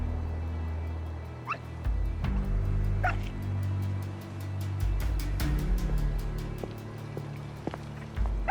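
A dog barks in sharp bursts and whimpers between them, close and clear, over a steady low rumble in a French-dubbed Portuguese drama scene.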